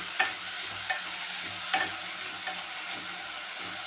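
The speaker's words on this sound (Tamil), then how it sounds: "உப்பு சேர்த்ததுக்கப்புறம் லைட்டாக கிண்டி விட்டுக்கிறோம்" Steady sizzling of potatoes frying in a pan, broken by occasional scraping taps of a utensil stirring them, close up with no talking.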